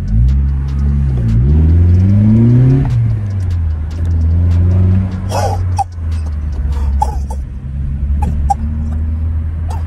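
Twin-turbo Vauxhall Corsa engine revs hard up and down close by, rising and falling several times before settling to a rumbling idle with sharp pops and clicks.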